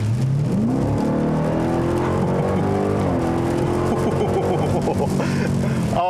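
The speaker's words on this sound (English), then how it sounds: "it's just classic V8 muscle car noise" A loud supercharged V8 engine in a 2021 Dodge Durango SRT Hellcat revs up and holds a rising, throaty roar, with a supercharger whine layered on top throughout.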